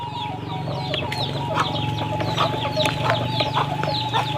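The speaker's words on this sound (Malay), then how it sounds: "Ada ayam di muka rumah sana." Chickens clucking in front of a village house in rural West Sumatra, a steady stream of nearby clucks over a constant low hum.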